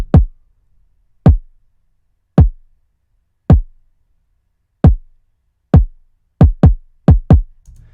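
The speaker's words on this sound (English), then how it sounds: "we have the kick. And here it is." Deep, punchy kick drum hits sounding alone, spaced evenly at first, then coming faster in a quick run of beats toward the end.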